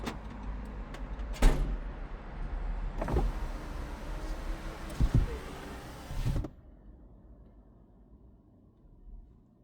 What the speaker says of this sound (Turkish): Uzaklaştığında camlar kalkacak.